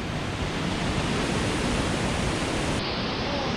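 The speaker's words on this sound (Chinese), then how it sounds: "看这个就是落水洞当中的瀑布" A powerful waterfall inside a sinkhole cave gives a continuous, dense roar of rushing water that is loud and unbroken throughout, with no voices.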